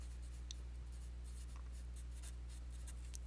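Writing out a rational equation while solving it, heard as faint, scratchy strokes in short, irregular bursts over a quiet, steady room hum.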